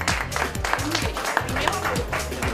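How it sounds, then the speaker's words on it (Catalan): Audience at a town festival breaks into sustained clapping, a dense steady applause close by with voices mixed through it. "I un aplaudiment."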